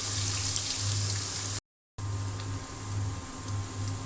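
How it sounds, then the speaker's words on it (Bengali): Onions fry in soybean oil in a pan until golden brown, giving a steady, close sizzle and crackle with a low hum underneath and a brief silent gap, with no talk. "পেঁয়াজটা আমি গোল্ডেন ব্রাউন কালার করে ভেজে নিব"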